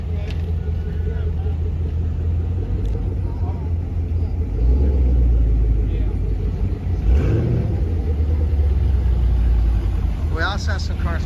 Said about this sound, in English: we still have some cars coming in